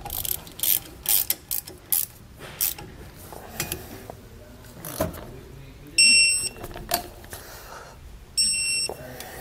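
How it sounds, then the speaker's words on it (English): A ratchet tightens the brake mounting flange bolts on a 2020 Jayco Pinnacle fifth wheel trailer during a disc brake conversion. Clusters of close clicking come in bursts, and two short electronic beeping patterns sound later on. "Then we're going to tighten these up with our ratchet here."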